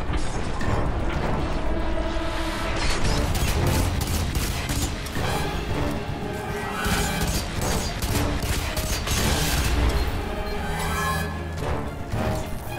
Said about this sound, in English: Just gotta throw all these grenades